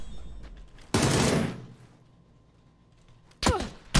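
Weapon test-fired in PUBG on a test server: a loud, close burst of rapid gunfire lasting about half a second, quiet pause, then a second sharp burst, with no voices.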